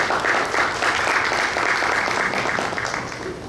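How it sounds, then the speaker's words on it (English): An audience at an indoor book launch applauds, dense sustained clapping from many hands that holds steady and then starts to fade near the end. "please give him a big round of applause"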